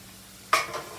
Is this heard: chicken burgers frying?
yes